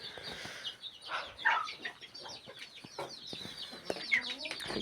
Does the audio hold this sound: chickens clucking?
yes